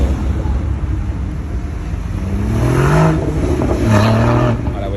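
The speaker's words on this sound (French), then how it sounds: "La Porsche, ça déboule." A Porsche accelerates past on the road near the Nürburgring, its engine note rising loud and close, then a second rise of revving follows, over a steady low road rumble.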